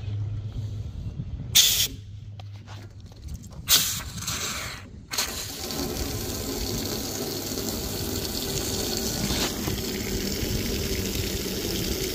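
Water runs steadily from a newly installed outdoor garden fountain, a continuous hissing flow that follows a few brief knocks and handling noises at the start and then holds even and fairly close.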